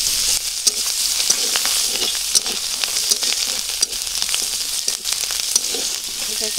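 Garlic, a bay leaf and whole cumin fry in hot oil with a constant close sizzle, punctuated by sharp crackles and stirring sounds throughout.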